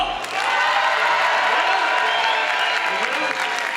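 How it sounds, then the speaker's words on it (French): A crowd at the close of a French outdoor event applauds all together after a countdown, loud sustained clapping mixed with some cheering, close and filling the space. "On applaudit sérieusement et tous ensemble."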